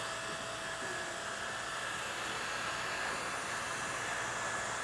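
A Riccar R65 cordless stick vacuum cleaner runs nearby with a steady, loud, airy whine and hiss that holds constant the whole time, no talking.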